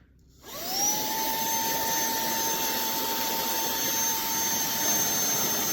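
A TANYO handheld vacuum cleaner spins up within half a second and holds a steady high whine over a broad rushing roar, loud and close, with no speech.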